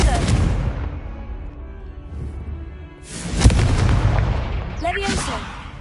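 A Confringo spell blast in the video game Hogwarts Legacy: a booming, explosive burst follows a rumbling game soundscape, landing loud and close, with a voice calling out nearby.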